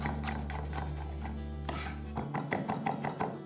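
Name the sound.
chopping garlic finely with a knife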